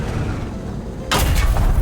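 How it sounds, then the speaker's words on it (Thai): A large, very long artillery cannon fires in a video game, a single heavy boom bursting out after a quiet rumbling stretch and ringing on briefly. "มันคือปืนใหญ่ที่ใหญ่ยาวมาก"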